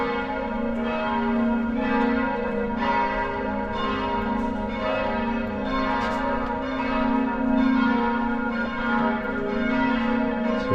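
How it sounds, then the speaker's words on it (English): Cathedral church bells at Lembati Church in Munster ring out repeatedly in a steady rhythm, loud, resonant strikes with long overlapping hum and no talking. "So this church cathedral bells will keep on ringing till 6 o'clock"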